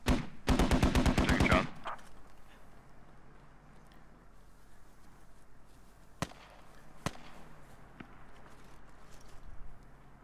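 Gunfire in the video game Squad: a rapid burst of about a dozen close, loud shots, followed by quiet ambience and two isolated sharp cracks.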